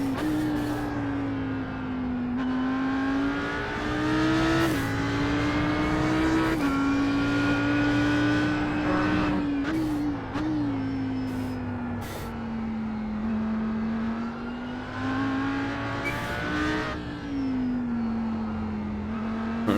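An Audi R8 GT3 race car engine in iRacing, driven on the Indianapolis road course, a steady loud in-car drone that rises and falls with throttle and gear changes across the lap, alone without talk.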